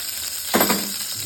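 Oil poured into a heated wok (kadai) for a Bengali boal fish curry gives a brief sizzling burst at mid-clip before settling back to a quiet hiss.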